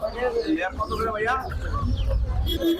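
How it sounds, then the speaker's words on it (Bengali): Layer hens at a busy poultry market in Mirpur, Dhaka, clucking in short bursts amid a crowd murmur, with people talking and bargaining over them close by. "এটা লেয়ার মুরগি"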